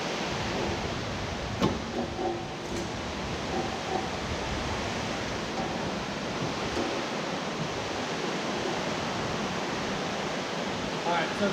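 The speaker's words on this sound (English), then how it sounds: "Sorry about the rain noise" Steady rain falling outdoors in South Florida during work on a Polaris RZR XP Turbo, a dense continuous hiss with a few faint knocks, constant and fairly close throughout.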